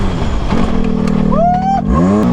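Can-Am X3 side-by-side engine revving as it drives onto a trailer, a loud, close engine note rising and falling through several throttle blips, with a person talking over it.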